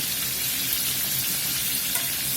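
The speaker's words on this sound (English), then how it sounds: "We're just frying these up a few minutes on each side until we get nice golden brown" A dense, even sizzle of flour-coated chicken chops frying in a pan until golden brown, close and constant, with no voices.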